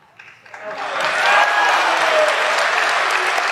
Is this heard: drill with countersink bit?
no